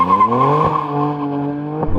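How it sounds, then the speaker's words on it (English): Tyres of a Dodge Charger spin and squeal during a brake-boost launch, a loud, sustained howl under a revving engine whose pitch climbs steadily, with a brief dip partway through. "Oh, come on, wheel spin too much."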